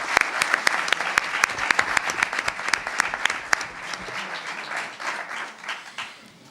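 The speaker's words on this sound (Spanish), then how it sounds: "un aplauso." An audience at a round-table event about the 1970 flood applauds, with steady clapping and distinct sharp individual claps, thinning slightly toward the end.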